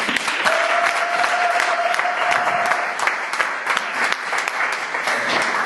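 Congregation in a church clapping steadily throughout, a dense sustained applause with a brief held tone ringing above it partway through.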